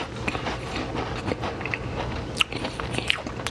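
Close bite and soft chewing of a warm, freshly baked coconut shortbread cookie, a couple of faint crunches over quiet room noise.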